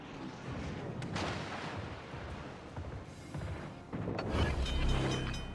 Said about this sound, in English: Z-31 is shooting at a battleship?